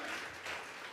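A church congregation claps together during a Sunday service, a dense, steady wash of applause filling the room for a brief moment with no voices.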